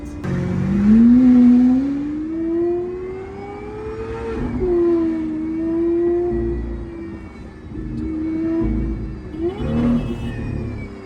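Liberty Walk Lamborghini Aventador engine revving loudly and close, several rising and falling throttle blips at low revs with a deep rumbling tone, no talking over it.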